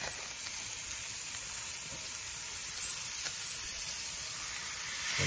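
A freshly flipped burger patty for a Hawaiian burger sizzles on a griddle, giving an even, steady hiss that carries alone and close throughout.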